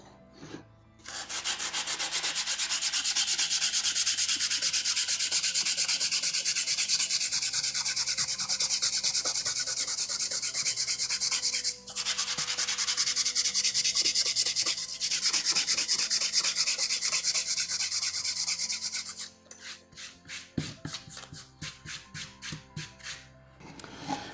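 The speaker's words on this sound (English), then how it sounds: "The coarse sandpaper creates a vintage distress effect." Coarse sandpaper rubs over painted wood for a distressed vintage finish: a loud, steady scratchy scrubbing that runs for about eighteen seconds, then breaks into short separate strokes.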